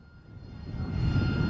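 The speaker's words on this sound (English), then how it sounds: "The planes are practicing for the Fargo Air Show this weekend." Blue Angels jets fly over during practice for the Fargo Air Show, a broad engine roar that swells steadily louder as the aircraft approach, with no voices.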